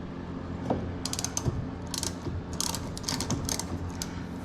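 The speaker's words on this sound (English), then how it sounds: "So that's why I grabbed this wrench. I'm going to go ahead and just turn that around." Wrench turning a part while fitting a dry carbon front splitter and canards on a Mustang GT350R, giving a run of close, dry ratcheting clicks in quick bursts over low mechanical clatter.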